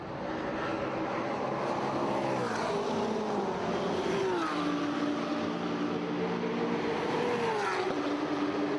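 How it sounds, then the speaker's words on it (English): A Porsche 997 Cup race car pulls out of the pits during a 24-hour endurance race at Barcelona, its engine a steady, fairly distant drone whose pitch rises and falls with gear changes over continuous ambient noise. "BF2 Competition, the French outfit with the Porsche 997 Cup, also leaving the pits and getting back out on track."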